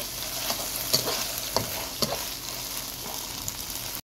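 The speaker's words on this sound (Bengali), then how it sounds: "আদা রসুনের পেস্টটাকে খুব ভালো করে প্রথমে কষিয়ে নিতে হবে" Ginger-garlic paste sizzles steadily in hot oil with fried onions, with a spatula scraping and stirring it at irregular intervals, close and fairly loud, no voices.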